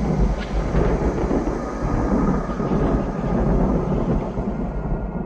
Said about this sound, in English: No, I don't like thunder.